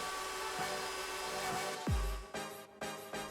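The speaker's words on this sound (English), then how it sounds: "you want to make sure to vacuum up all of these metal pieces" A vacuum cleaner drones steadily while sucking up small metal drilling pieces, with a sharp descending tone near the middle and a few abrupt clattering bursts as the fragments are pulled in.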